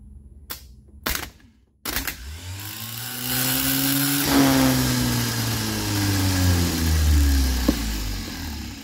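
A starter motor from a 1976 Ford F250 with a 390 FE engine, held off the truck and tested, gives a few sharp clicks, then whirs up into a loud rising whine that holds and slowly winds down, with no talk.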